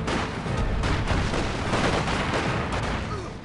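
Company of Heroes 2 combat fire at enemy infantry forms a dense, continuous wash of gunfire and artillery booms, loud and steady, with no clear single shots.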